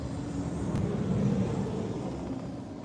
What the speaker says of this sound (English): these planes is flying closer and closer to our car when they landed